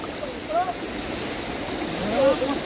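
Steady rushing water roars continuously, like a waterfall, with faint voices briefly audible beneath the noise.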